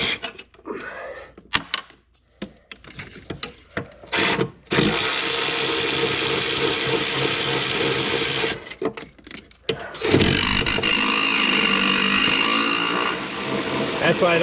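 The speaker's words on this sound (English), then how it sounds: "This cordless ratchet is relatively low torque." A low-torque cordless ratchet removes the PCM bolts on a Ford 5.4 3V engine, buzzing in two sustained runs, close and loud, after a stretch of someone talking and some tool clatter.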